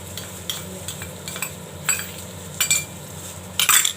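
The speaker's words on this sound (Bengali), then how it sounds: "এবার নাড়বো।" Pulao with raisins, peas, cashews and ginger being stirred as it fries in a pan, a soft sizzle under repeated clinks and scrapes of a utensil against the pan, growing louder toward the end.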